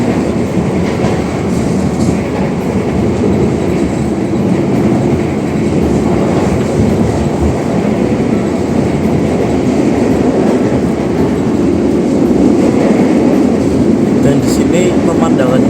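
Passenger train cruising at around 120 km/h, heard from inside the carriage as a loud steady rumble with rhythmic clatter from the wheels, while people talk over it.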